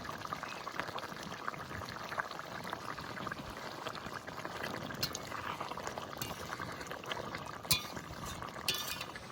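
Mustard oil drizzled into a simmering fish and bottle gourd curry, a faint bubbling, pouring hiss against the soft boil of the pot with a few light clinks, no one talking.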